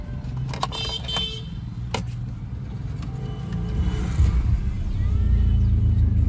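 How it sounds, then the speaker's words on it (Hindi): A BMW engine runs with a vibration problem, producing a steady low rumble and drone up close that grows heavier toward the end, with a few brief clicks early on. "वाइब्रेट कितनी ज़्यादा कर रही है गाड़ी"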